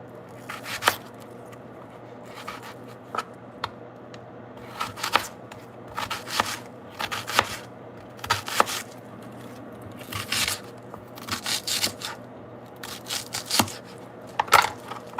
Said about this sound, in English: Cutting onions.